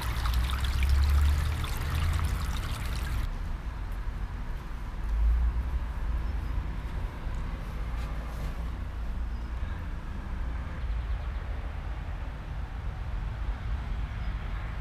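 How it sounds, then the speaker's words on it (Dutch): Water trickles from a garden pond waterfall in a continuous, close splashing wash with a louder broadband layer that drops away after a few seconds, then a steady flow with no talking. "Bij zo'n waterval."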